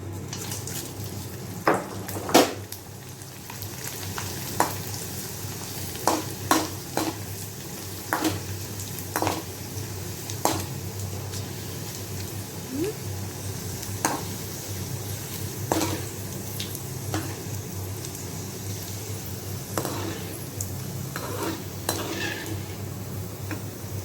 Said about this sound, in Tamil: கடைசியாக நம்ம வந்து இப்போ இந்த வடகம் பொரிக்க போகிறோம்